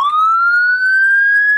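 An ambulance siren at an accident scene gives a single loud, steady electronic tone that slides slowly upward in pitch, heard alone and close with no talking.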